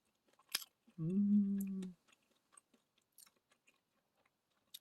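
Crisp bread baked in a traditional wood-fired furnace is chewed up close. Sparse, sharp little crunches come after a short hummed murmur of enjoyment.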